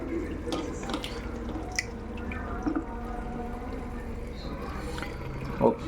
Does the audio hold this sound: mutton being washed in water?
yes